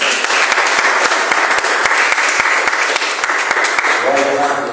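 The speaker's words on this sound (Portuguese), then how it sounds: "as palmas ao Senhor" A church congregation applauds in worship, a steady, loud wash of clapping throughout, with a faint musical tone entering near the end.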